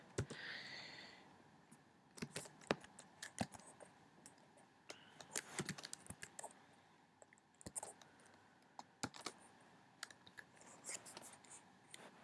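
Code being typed on a Mac keyboard, soft close clicks and taps in irregular bursts with short pauses, quiet and without speech.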